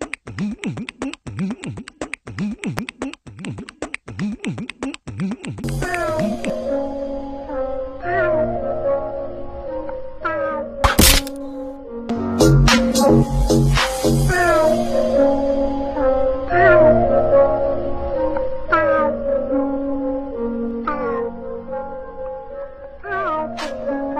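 A man imitates a cat, giving a string of drawn-out meows over a busy, loud background of music-like tones, after a few seconds of steady pulsing sound.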